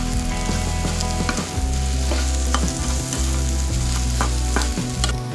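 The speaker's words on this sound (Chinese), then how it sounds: "翻炒均勻，用鍋鏟把蛋切碎" Beaten egg stir-fried in a hot wok with fish oil, a spatula chopping it up: loud, steady sizzling throughout with repeated metallic scrapes and clacks of the spatula, close and busy.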